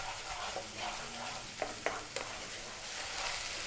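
Garlic ginger paste sizzles and fries in a hot pan for a vegetable curry, a steady crackling hiss broken by a few sharp stirring scrapes, with no talking.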